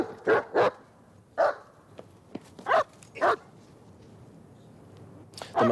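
A dog barking hysterically, a series of sharp, separate barks with short gaps between them, heard from a moderate distance over quiet background noise.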